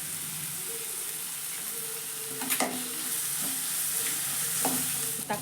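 Grated ginger and garlic sizzle steadily in a pan for lady's finger rice, with a few close spatula scrapes as they are stirred, and no voices.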